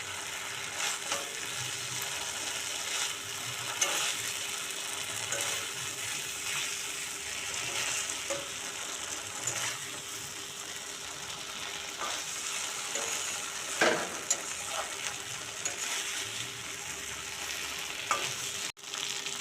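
Fried koftas sautéed in a spice masala whose oil has separated, a steady close sizzle with intermittent stirring scrapes and clinks throughout, no talk.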